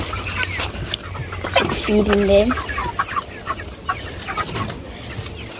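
Chickens cluck at feeding time in Jamaica, with scattered close calls and low fowl chatter as a person speaks briefly over them.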